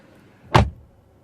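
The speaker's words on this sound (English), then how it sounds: "so if I close the door," A single door on a 2022 Mercedes C300 shuts with one solid, well-damped thud, close and fairly loud, then quiet.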